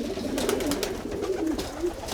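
A rescued pigeon with half a wing coos nearby in a series of soft, low throaty calls repeating every fraction of a second, with light handling rustle around them.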